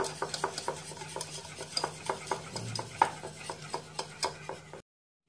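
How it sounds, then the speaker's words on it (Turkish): Yogurt, egg yolk and flour being whisked in a mixing bowl for a soup liaison: a steady run of close, rhythmic whisk taps and scrapes against the bowl, with no talking. "Yumurta sarısını ekliyorum. Unumu ekledim. İyice çırpıyorum."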